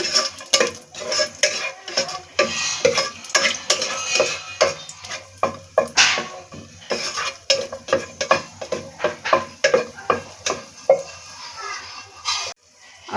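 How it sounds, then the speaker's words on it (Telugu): Cashew nuts frying in hot ghee while being stirred, with frequent metal spoon scrapes and clinks against the pan over a soft sizzle, steady and close. "నెయ్యి వేడెక్కిన తర్వాత జీడిపప్పు, దోరగా వేయించుకోవాలండి."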